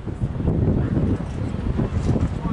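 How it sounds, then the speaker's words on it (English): Steady wind gusting across an outdoor track at a 300m hurdles meet, a continuous low rumble of buffeting against the microphone with no speech, swelling and easing slightly over a couple of seconds. "wind is moving my hand"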